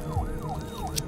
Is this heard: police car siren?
yes